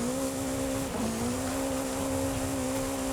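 A BAC Mono with a naturally aspirated 2.3-litre four-cylinder engine in Forza Horizon 5 holds a steady, loud engine drone at constant revs, with a brief dip partway through.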